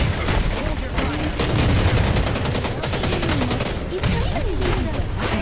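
Rapid bursts of video game gunfire rattle continuously, dense automatic shots layered over one another, loud and close, with in-game voices faintly underneath.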